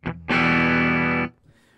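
A single sustained chord on a Telecaster through a Two Rock Classic amp rings out with a thick distorted tone, held for about a second before cutting off, preceded by a short plucked note.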